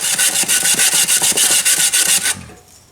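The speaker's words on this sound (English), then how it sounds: "Like one of these pumice stones, it's not sandpaper, but I sort of like it because it contours to the shape that I'm working." Wood being smoothed by hand with a pumice stone, a rapid run of about a dozen close, rhythmic rasping strokes that stop abruptly near the end.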